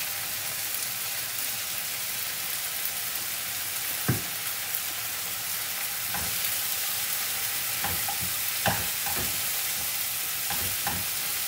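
Curry leaves and turmeric fry in a pan with tomatoes and chillies while being stirred, a steady soft sizzle broken by a few sharp scrapes and clinks of the spoon, close and alone without talk.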